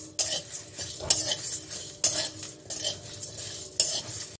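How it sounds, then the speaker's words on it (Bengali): Whole spices rattling and scraping in a dry pan as they are stirred, with several sharp metallic clinks of a utensil over a faint background sizzle. "এখন এটাকে আমি ভেজে নেব, হালকা ভাজবো, বেশি ভাজবো না।"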